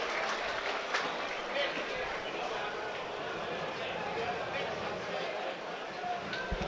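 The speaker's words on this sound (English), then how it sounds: "he goes off to a warm round of applause" A football crowd at a Hartlepool United versus Woking National League match gives warm applause to a player being substituted off; the clapping sits as a broad, moderate wash beneath a radio commentator's continuous talk.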